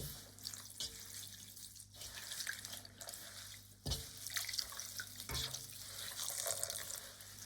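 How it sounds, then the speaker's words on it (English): Cold tap water runs into a sink to rinse freshly picked spruce tips, a steady close hiss and splash with occasional louder spatters and knocks, no talk. "is going to be to rinse them in cold water"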